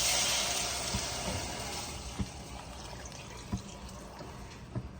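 Broad rushing hiss of four cups of water pouring into a hot pan of chicken, fading gradually, with a few light knocks against the cookware.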